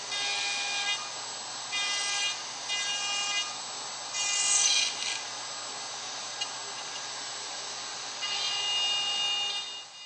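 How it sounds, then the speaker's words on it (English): Router fitted with an E-bush and straight bit cutting dovetail pins in a Leigh dovetail jig, a steady high motor whine rising in several loud bursts as the bit bites into the wood. "Pins are routed using the same E-bush and the included straight bit."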